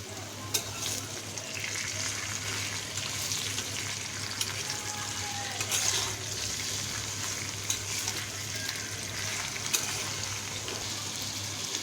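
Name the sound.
frying Malabar spinach and potatoes with dried chilli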